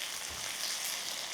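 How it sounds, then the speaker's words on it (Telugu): Onion and green chilli hit hot tempering oil in a pan, giving a soft, steady hiss and sizzle with no talking. "ఉల్లిపాయ, పచ్చిమిరపకాయ పోపులో వేసాను."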